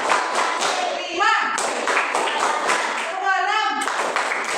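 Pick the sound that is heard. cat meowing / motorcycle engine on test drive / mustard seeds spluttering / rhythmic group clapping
rhythmic group clapping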